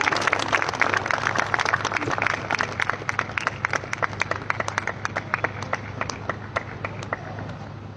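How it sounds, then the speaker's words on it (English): An audience at a stage event with a chief guest claps in a dense, sustained round of applause that slowly thins toward the end, with no speech over it. "Can we have a big round of applause, please?"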